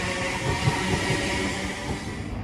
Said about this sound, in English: passing through now is going to be a London Northwestern Railway service to London Euston from crew